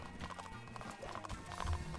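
A horse's hooves clip-clop in quick, uneven rhythm across farmland in the Blood & Iron video game. The hoofbeats are quiet, brief and continuous.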